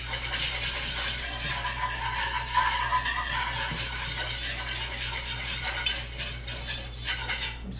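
Whisk scraping steadily around a metal pan on the stove while mac n cheese cooks: a continuous busy clatter and scrape under a low hum, fairly soft and unbroken.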